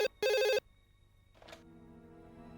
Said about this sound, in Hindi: मैं अभी एसीपी को फोन करती हूँ